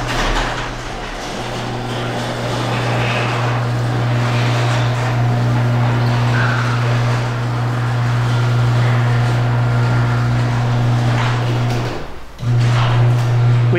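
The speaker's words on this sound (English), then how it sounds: "We want the overhead garage door opener to roll down, strike the 2-inch block, and reverse under reasonable resistance." An overhead garage door opener runs with a steady motor hum as the door rolls down, then briefly drops out near the end and restarts as the door strikes a 2-inch block and reverses.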